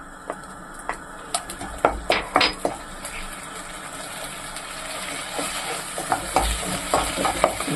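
Large garlic cloves fry in a pan, a constant sizzle under sharp metallic clinks and scrapes of a utensil stirring, close up and without speech.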